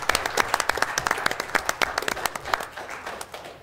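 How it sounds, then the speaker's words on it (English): Scattered applause from a small audience at a Township of Hamilton committee meeting, a few dozen uneven claps close by that thin out and fade toward the end. "I think we should give those guys all a round of applause."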